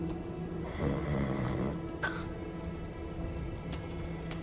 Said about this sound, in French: Ça ronfle.